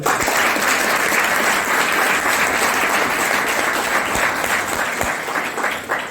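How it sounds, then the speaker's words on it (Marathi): A lecture audience gives loud, sustained applause for speaker Yuvraj Shinde, a thick unbroken roar of clapping that holds steady for several seconds and tapers slightly at the end, with no speech over it. "आणि मग युवराजसाठी जोरदार टाळ्या पडायचं"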